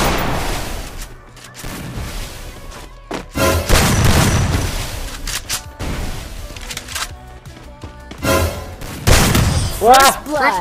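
Booming explosions and gunfire bursts in Free Fire thump repeatedly over busy game audio and talking, loud and close.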